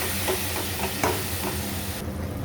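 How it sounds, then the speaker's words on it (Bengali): Taro leaves and prawns are stirred in a frying pan, with soft scraping strokes repeating over a steady, close sizzle and hiss. "শাকগুলো দিয়ে ভালো করে নাড়াচাড়া করে"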